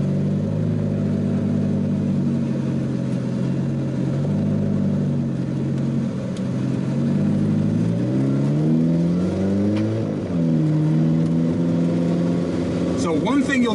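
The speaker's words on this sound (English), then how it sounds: "You'll notice is that this car is very loud" An Alfa Romeo 4C Spider accelerates hard, its loud turbocharged engine climbing in pitch through gears with a brief dip at a shift, close and sustained throughout.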